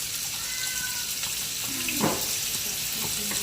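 Onions dropped into hot bacon grease in a pan set up a steady sizzle, with a brief louder crackle and stir as they hit the fat.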